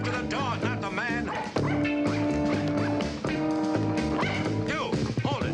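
A dog barks and yips in an old TV drama scene, with loud busy music playing throughout and almost covering the barks.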